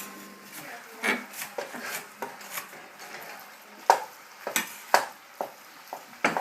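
Chopped onion is stirred into meat cooking in a pan for lasagna, with irregular scraping and knocking of a utensil against the pan over a faint sizzle, close and fairly quiet.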